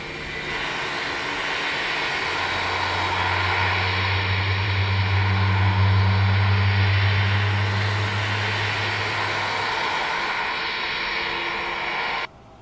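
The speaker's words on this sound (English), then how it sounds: "I have to say the engine sounds are really, really good." FSLabs Airbus A321 jet engines in the MSFS 2024 flight simulator, a steady, loud, continuous engine roar with a low drone that swells in the middle, playing alone without talk.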